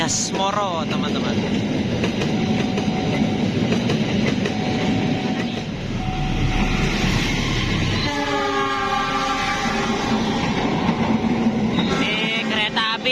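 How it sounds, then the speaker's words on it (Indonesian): Argo Bromo Anggrek passenger train passing close by, a loud continuous rumble with wheel clatter and a long horn blast partway through, steady throughout. "Ini kereta api Argo Bromo Anggrek teman-teman."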